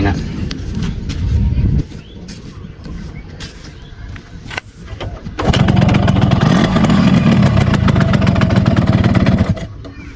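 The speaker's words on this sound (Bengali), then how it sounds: "এখন আবার স্টার্ট দিয়ে দেখি যে কিকে স্টার্ট নিচ্ছে" Yamaha RX motorcycle with a freshly tuned carburetor, kick-started and left idling: an uneven, sputtering run first, a brief drop, then a louder, steady idle lasting several seconds before cutting back.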